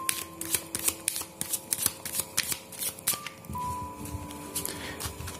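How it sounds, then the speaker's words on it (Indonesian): Playing cards being shuffled during a tarot-style card reading, a rapid riffling flutter of cards in quick repeated bursts close by, followed by softer handling, with no voices. "saya bakal kocok kartunya"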